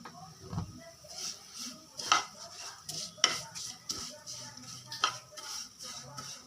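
Soft frying sizzle with a spoon repeatedly scraping and stirring in a pan, browning ingredients for pal payasam, quiet with irregular metallic taps.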